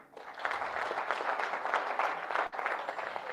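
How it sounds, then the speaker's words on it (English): Audience applause fills the whole stretch with steady, dense clapping, loud and continuous, with a brief dip near the end before it resumes. "Kindly clap for them."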